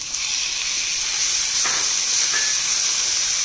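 Chopped tomatoes hitting golden-brown fried onions in a pan for butter chicken, a steady loud hiss of sizzling that runs the whole time with slight flares midway.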